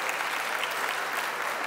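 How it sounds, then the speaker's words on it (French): Brief burst of applause from an audience at a lecture, many hands clapping evenly at a consistent level with no pauses. "Ça mérite d'être applaudi."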